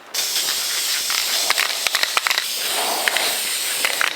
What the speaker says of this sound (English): This is the same paint that I used earlier that survived the use of the torch. So we're just going to put a light coat on top of this